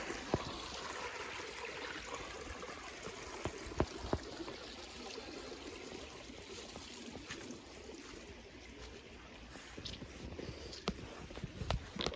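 A shaded forest creek flows steadily in the background, a faint continuous trickle and wash with occasional small clicks and knocks, no voices present.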